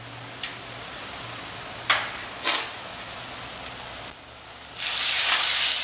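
Garlic ginger paste hits hot oil for a tomato chicken curry, a steady sizzle with a few sharp crackling bursts, then a louder, brighter hiss swelling near the end.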